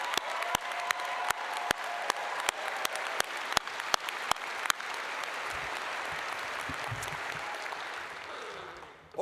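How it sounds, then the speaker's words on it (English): Audience applause for a graduating veterinary medicine class at a commencement ceremony, a few sharp individual claps at first building into a dense, steady ovation that gradually tapers off. "A round of applause for the class of 2025."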